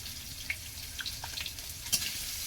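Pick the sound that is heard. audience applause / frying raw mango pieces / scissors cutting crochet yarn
frying raw mango pieces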